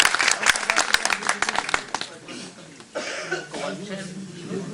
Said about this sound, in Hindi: तो एक बार तालियां बजाइए और सुनिए।